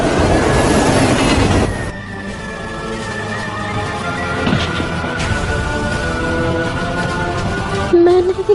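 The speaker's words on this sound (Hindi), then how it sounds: "ट्रेन आ रही है।" Train approaching in a Hindi-dubbed animated series, a loud rumbling rush that drops after two seconds into a sustained metallic rail hum with faint squeals and a sharp burst near the end.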